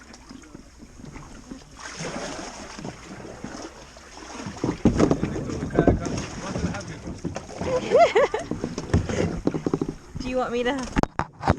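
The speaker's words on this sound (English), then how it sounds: "Oh, I'm scraping ice." A kayak grinds and scrapes through ice in a glacier lagoon in Iceland, rough broadband bursts growing louder and choppier in the second half, with wind buffeting the microphone and people talking nearby.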